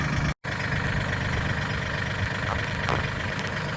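A small tractor engine idles steadily with a low rumble, stuck in drought-cracked mud, continuous and fairly close after a brief cut near the start.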